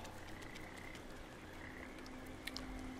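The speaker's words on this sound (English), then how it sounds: "Here are frogs again." Frogs croak in the video game Papo & Yo, a faint, continuous chorus of overlapping calls set against a soft ambient bed, with no talk.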